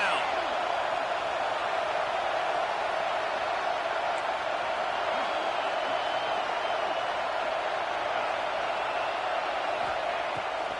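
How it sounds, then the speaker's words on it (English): Steady roar of a football stadium crowd cheering for the defense on a third down, a dense, continuous wall of noise throughout with no clear breaks. "Decibels rising as the crowd gets behind this defense on third down."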